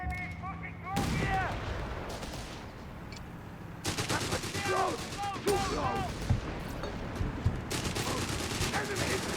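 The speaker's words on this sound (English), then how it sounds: "Assault grenade rushing in there with MP40s" MP40 submachine gun fire and grenades in Company of Heroes 3, in a multiplayer match between the Afrika Korps and British forces: dense bursts of automatic fire and booming explosions in repeated waves, with a voice talking underneath.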